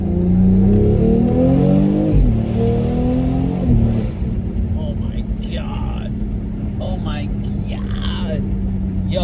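A BMW X3 M40i fitted with a CTS intake accelerating with the window down, a loud rising engine note climbing through gears with a brief shift dip, then settling into steady cruising drone as a person talks.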